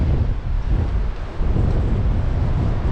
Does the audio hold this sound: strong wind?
yes